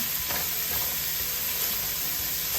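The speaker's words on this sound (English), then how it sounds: "We'll keep cooking until the onion become a little more tender and become a little more translucent" Onions sizzle and crackle steadily in a hot pan while being stir-fried for Thai beef fried rice, a dense continuous frying hiss with occasional stirring clatter, close and fairly loud, with no talk.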